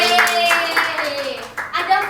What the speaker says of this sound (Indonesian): tepuk tangan buat Mbak Arum